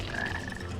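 A black frog in the video game Sonic Heroes gives one short, steady croak, loud and close, with no voices over it.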